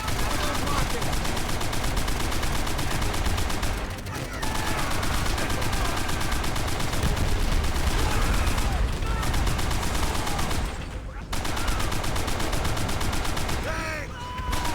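Call of Duty battle with sustained rapid machine gun fire and scattered explosions, dense and loud throughout, with shouted voices mixed into the gunfire.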